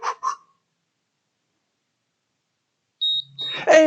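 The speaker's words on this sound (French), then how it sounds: "à chaque fois que vous allez entendre un bip comme ça" A short electronic workout timer beep sounds after a stretch of silence, followed by a voice; brief vocal sounds open the clip.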